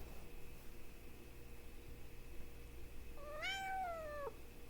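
A cat walking across a computer gives a single drawn-out, rising-then-falling meow, close but fairly soft, over a quiet room with faint background hum and no talk.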